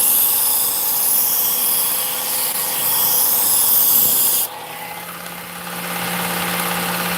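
A butcher's knife is drawn against a sharpening machine, a steady loud grinding rasp over a motor hum that abruptly drops off partway, leaving the motor droning on its own, with no talk.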